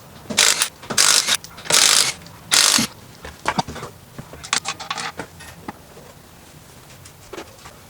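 Wheels coming off a 2015+ Ford S550 Mustang, heard as a few loud bursts of a power tool on the lug nuts, then metallic clinks, rattles and handling of parts, close and uneven, with no talking.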